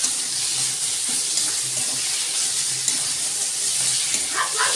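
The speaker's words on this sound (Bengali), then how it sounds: "এবার আদা রসুনটা একটু ভাজতে থাকবে" Ginger and garlic frying in oil for a spicy mutton curry, a steady close hiss that sounds almost like running water, continuous and fairly loud throughout with no talking.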